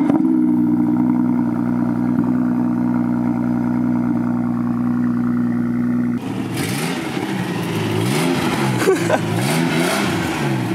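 BMW M2 engine revving hard, a loud steady drone that shifts into rising and falling throttle blips in the second half, close by with no talk.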